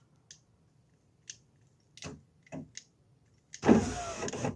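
VW Polo driver's door power window motor being tested with a temporary switch during door wiring repair, a few faint clicks and short motor bursts, then a louder sustained whirring run near the end.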